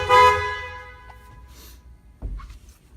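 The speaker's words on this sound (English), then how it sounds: "Both horns, like from the Camaro factory, work exactly like they should." Factory-style horns on a 1952 Chevrolet 3100 pickup truck give one loud, brassy blast at the start, then fade into quiet handling noises and a soft knock.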